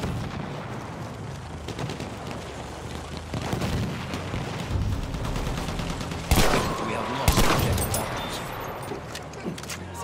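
Battlefield 1 combat: dense bursts of gunfire and heavy booms roll continuously, and two sharp, loud blasts stand out near the end, with occasional voices underneath.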